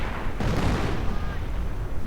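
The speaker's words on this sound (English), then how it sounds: "More artillery ranging in." Artillery fire in the World War II strategy game Company of Heroes, a single heavy boom followed by a rumbling decay, with a voice speaking over it.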